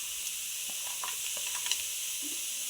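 Carrot and onion stir-fry in a pan for chicken shawarma, with a soft steady sizzle and a few scattered light scrapes and clicks from stirring, fairly quiet.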